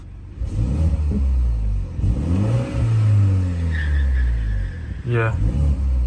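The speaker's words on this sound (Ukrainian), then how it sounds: "Спорт переключає, зразу вихлоп міняється, можна послухати." A BMW 330i xDrive M Sport's 2-litre engine idles then revs with sport mode engaged, its exhaust rumbling and rising in pitch, with someone talking over it nearby.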